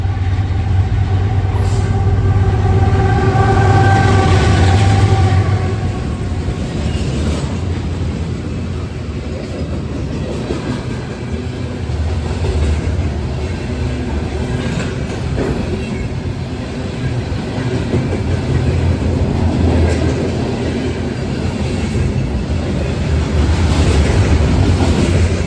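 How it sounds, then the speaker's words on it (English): Norfolk Southern freight train carrying steel coils rolls past on the Rat Hole Line in Kentucky, a loud continuous rumble and clatter of wheels with a locomotive pushing at the rear, heard up close throughout. "Locomotive on the back pushing hard."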